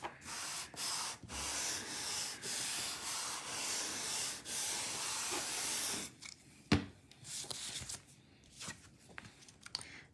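A bone folder burnishes glued paper on a handmade card, giving a steady, close dry rubbing hiss for about six seconds, then quieter scattered strokes and taps.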